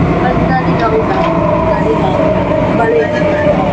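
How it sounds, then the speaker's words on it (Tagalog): A fast train on the way to Disneyland gives a loud, continuous rumbling hum from inside the car, steady throughout with no breaks. "Ang bibilis ng train dito guys."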